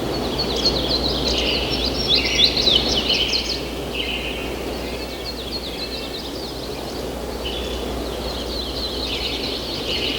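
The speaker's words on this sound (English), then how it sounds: "many species of birds," Several wild birds sing and chirp in the Sierra Nevada, with bright high calls clustered early and fainter scattered notes later, set over a steady low rumble of ambient noise.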